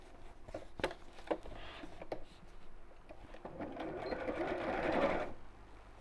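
A sewing machine stitches straight across a fabric seam, a brief whirring run after some handling knocks and rustles, close by and fairly quiet.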